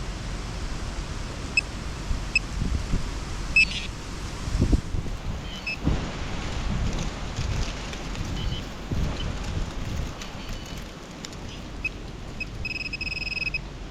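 Strong, gusty wind buffets a microphone on an outdoor trail, a steady broadband roar that swells and dips continuously, with brief faint beeps from a metal detector pinpointer.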